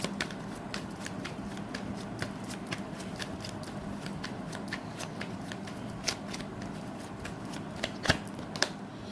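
Tarot cards being shuffled and drawn, making quick papery riffles and flicks in a continuous busy run, close and fairly loud, with a few sharper snaps near the end and no talking.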